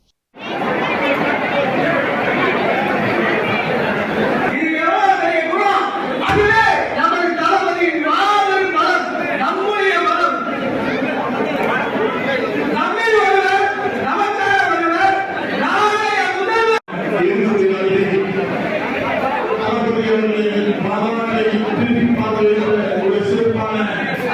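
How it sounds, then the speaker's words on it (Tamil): Large crowd of supporters packed onto a stage at a TVK political event, shouting and cheering as one continuous loud din of voices, with the babble rising and falling throughout. "வீரர்கள் மேடை மீது கும்பலாக ஏறி நின்று கொடியை அசைத்தபடி விசிலடித்து கூச்சலிட்டபடி இருந்தனர்"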